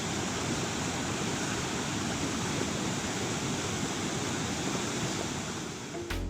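Forceful water gushes from opened dam gates in Masinagudi, a loud, steady, broadband roar that fills the scene without a break until a brief knock at the very end.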